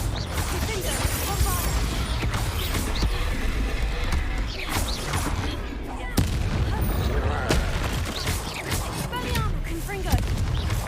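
A Confringo fire spell in Hogwarts Legacy goes off in repeated explosive blasts and crackling bursts amid busy combat effects, loud and close, with a voice speaking over the action.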